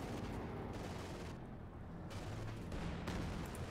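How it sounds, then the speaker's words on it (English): Tiger tank cannon fire mixes with gunfire in the Company of Heroes 2 battle game, a dense, rumbling barrage of booms and shots that continues throughout, fairly faint overall. "Tiger main cannon misses."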